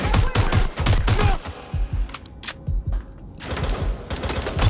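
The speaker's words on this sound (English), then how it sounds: "They're shooting!" Rapid gunfire bursts in the video game Watch Dogs Legion, loud overlapping volleys with a brief lull in the middle before the shooting resumes.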